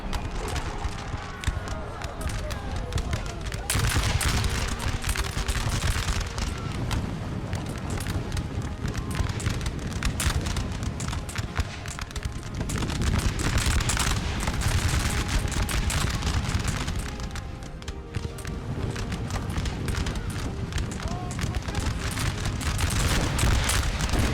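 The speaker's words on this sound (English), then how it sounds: "Nice artillery strike." Artillery strike in the video game Napoleon Total War, a dense, continuous barrage of loud booms and cannon fire that surges and eases in waves over a busy battle din, with a voice briefly audible.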